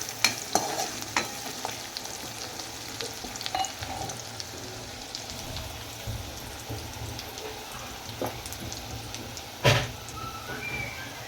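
Onions and tomatoes fry in a pan for dal palak, giving a steady close sizzle with intermittent stirring scrapes and one sharper clatter near the end, with no talking.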